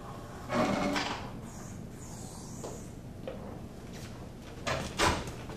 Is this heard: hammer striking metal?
no